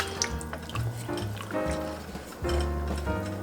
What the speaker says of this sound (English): I'm gonna stir everything up.